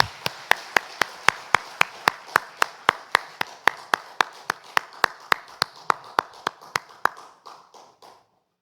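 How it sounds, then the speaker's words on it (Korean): A church congregation claps in steady unison during a Sunday service, about three sharp beats per second in a brisk, even rhythm that carries for several seconds before thinning into a few scattered final claps. "하나님께 영광의 박수 올려드립니다"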